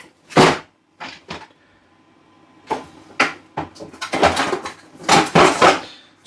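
A plastic vegetable chopper with stainless steel blades is handled close by, giving a series of loud clacks and rattling knocks in irregular bursts with quiet gaps between them.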